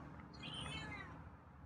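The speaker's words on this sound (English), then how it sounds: "Oh, there's some meows there." Feral cat named Scruffy, recovering from a leg problem, gives a few meows outdoors around dinnertime, a fairly quiet, close cry rising over a soft background.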